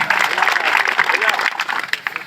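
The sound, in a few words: applause from the rally crowd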